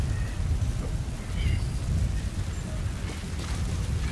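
A sandstorm roars in the game Metal Gear Solid V, a steady, dense rush of wind-blown noise with a heavy low rumble that holds throughout, and no other clear sounds stand out.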